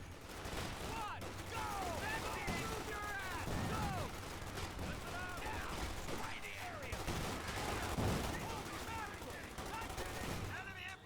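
Sustained gunfire from a Company of Heroes 2 battle, with machine-gun bursts and rifle shots crackling over a continuous roar of combat, loud and dense throughout, while voices speak under the clamor.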